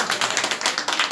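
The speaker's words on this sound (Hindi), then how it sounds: "तालियां हो जाएं।" Audience clapping at a spiritual memorial gathering, a dense run of hand claps with a steady patter throughout, fairly close and without talk over it.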